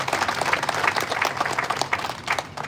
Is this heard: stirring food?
no